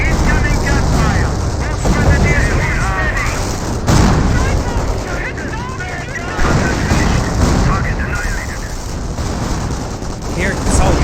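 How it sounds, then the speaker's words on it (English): Dense gunfire and explosions from a Company of Heroes 1 World War II battle, a loud continuous barrage of shots and booms under fast, excited commentary. "Incoming gunfire!"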